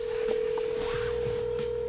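A steady telephone dial tone sounds alone for about two seconds as a call is placed, holding one even pitch with faint clicks and scattered background noise beneath it.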